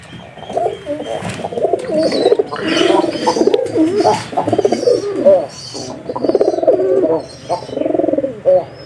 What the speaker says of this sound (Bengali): এটা কিন্তু দেশি কবুতর বাচ্চা ও সে কবুতর জোড়া